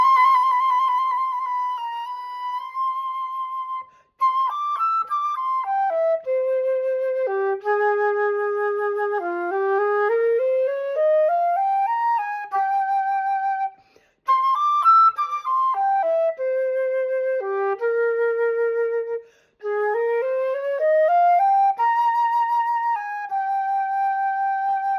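A solo melodic passage from Donjon's piece Pan, opening with a trill: clear sustained legato notes weave up and down in flowing phrases, with two brief breaths or pauses, played alone without talk.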